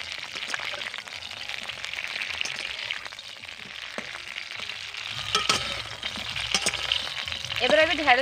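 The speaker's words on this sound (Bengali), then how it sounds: "ওই তেলে আমি ঢেঁড়সগুলোকেও ভেজে নেব।" Okra fries in hot oil left over from frying potatoes, a close, steady sizzle with occasional stirring clatter that grows a little louder toward the end, no talking.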